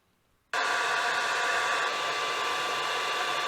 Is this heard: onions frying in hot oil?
no